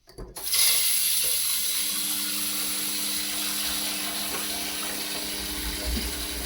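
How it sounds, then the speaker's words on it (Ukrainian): A gas boiler ignites and runs with hot water turned on during a power outage, powered by a small inverter: a sudden whoosh at the start settling into a steady broadband roar with a low hum and faint mechanical ticking. "Котел запалився і працює."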